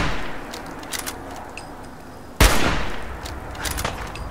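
Gunfire at zombies in Fallout 4: a single loud, sharp shot bursts out close after faint scattered clicks and thuds, followed by a lingering noisy tail and lighter distant shots.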